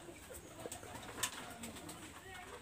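Pigeons, including Pakistani high-flyer breeds, coo softly and intermittently at a modest distance, with faint flutters and background rustle around the calls.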